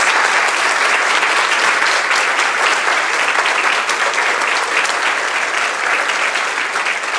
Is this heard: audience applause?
yes